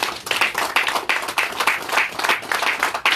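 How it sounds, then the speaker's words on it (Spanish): Applause at a church gathering, a crowd clapping steadily and fairly loudly for the whole stretch, dense overlapping claps with no talking. "Yo creo que Jesucristo se merece un fuerte aplauso"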